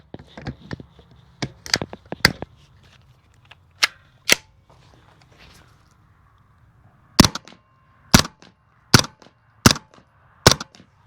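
A single firearm fired with subsonic ammunition, discharged again and again: a first loose cluster of sharp cracks, a pause, then five evenly spaced shots, close and loud against a quiet outdoor background.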